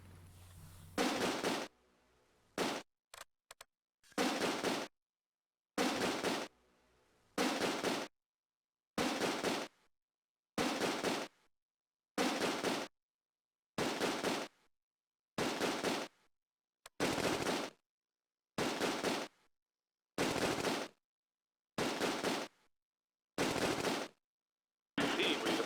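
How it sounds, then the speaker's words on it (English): Rifle team gunfire in the Close Combat video game set in Operation Market Garden comes as repeated sharp bursts of shots, about a dozen short volleys separated by brief silences, loud and close. "my rifle team starts to engage them and the ad hoc rifle team joins in"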